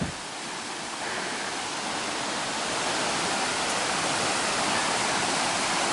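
A river in the Smoky Mountains rushes with a steady, dense broadband roar, close and continuous with no breaks and no voices.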